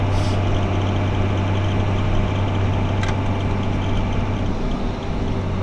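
Dodge 5.9 Cummins diesel truck with a homemade exhaust brake, heading downhill; a steady, loud low diesel drone and rumble holds throughout, with a brief hiss near the middle.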